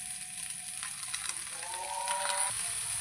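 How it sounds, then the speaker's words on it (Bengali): Pasta with vegetables and chopped coriander sizzles steadily while frying in a pan, a soft continuous hiss with faint stirring scrapes, joined by a distant melodic call to prayer in the background. "ভালো করে এটাকে নেড়ে চেড়ে ভালো করে ভেজে নিতে হবে"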